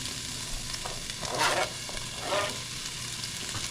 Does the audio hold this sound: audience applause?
no